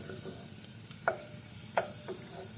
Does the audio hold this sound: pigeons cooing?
no